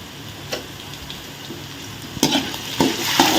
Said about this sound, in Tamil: இந்த மாதிரி எப்பப்போ கிளாரி கிளாரி விடுங்க